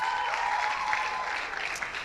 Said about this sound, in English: Please make a resounding applause for the one, the only Soft Made It.